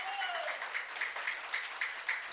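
A church congregation applauds in a steady wash of clapping, with rhythmic peaks of hands striking, moderately loud, alongside a voice speaking at the start.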